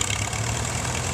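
A 1948 WD9 tractor engine idles at a parade of power, a steady low rumble with a faint knocking pulse, close and continuous with no talking.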